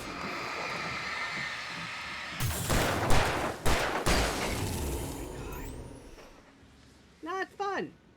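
A loud cluster of gunshots rings out in the dark setting of Alan Wake Remastered over a constant background rumble, followed by quieter sounds and a brief voice near the end.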